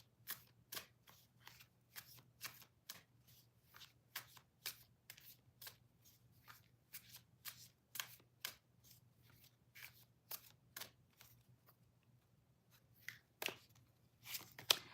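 Tarot cards being shuffled by hand, a steady run of crisp riffling slaps and flicks in uneven bursts, close and fairly quiet, with no talking.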